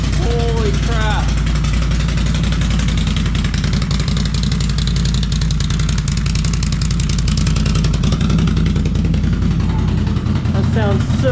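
A 2019 Ski-Doo Renegade XMR snowmobile with a full dual RJWC Krossflow exhaust runs close by, a loud continuous engine drone holding steady with a low throbbing idle, while people talk briefly over it.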